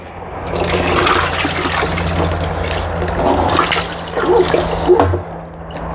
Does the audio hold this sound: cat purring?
no